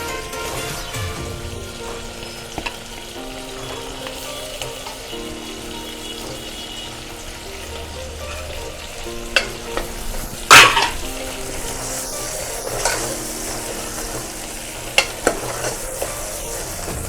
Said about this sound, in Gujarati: રીંગણા નાખીને પછી આપણે હલાવશું.